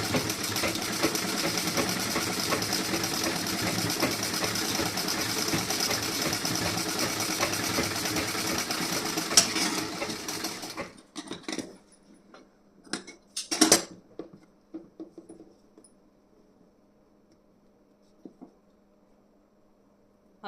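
A sewing machine stitches the front piece of a blouse, whirring steadily for about ten seconds before stopping, followed by a few sharp clicks and handling knocks in a quiet room.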